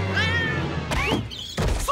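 A cat meows several times in high, wavering cries, close up, with a couple of dull thumps between them.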